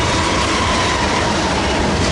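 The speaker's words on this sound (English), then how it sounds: "Oh yeah, it's definitely a Z train for sure." A Z freight train passes at Commerce with a loud, continuous roar of wheels and rumbling cars close by, steady throughout.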